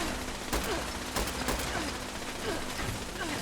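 Gunfire at turrets in Fallout 76, a few spaced sharp shots cracking over a constant noisy game background, no talk during the shots.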